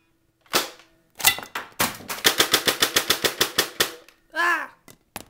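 Gunfire in a mock D-Day battle: a few single sharp shots, then a fast string of about a dozen loud, close cracks in steady rhythm, followed by a brief shout and a couple of final shots.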